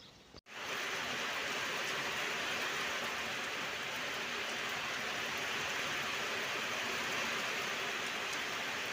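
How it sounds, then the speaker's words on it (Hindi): Steady rain falls in the Himachal hills, a dense, even hiss that holds at a constant level after a brief dropout at the start. "हमारे यहाँ भी बारिश होने लगी"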